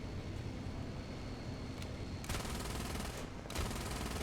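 Rapid machine gun fire from a tank in War Thunder, a sustained dense rattle running throughout with louder bursts partway through and near the end.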